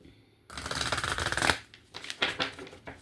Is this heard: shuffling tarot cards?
yes